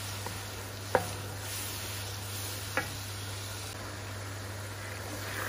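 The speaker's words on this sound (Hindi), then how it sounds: "हम मसाले को 2 से 3 मिनट तक हमने स्लो आग पे भूनना है।" Masala with tomato paste roasts in a pan on a low flame for a chicken and potato curry, giving a faint, steady sizzle with two sharp spoon taps over a low hum.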